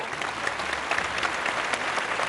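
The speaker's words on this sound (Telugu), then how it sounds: "చప్పట్లు." A television game show studio audience claps continuously. The applause is close, fairly loud and evenly textured, with no talking over it.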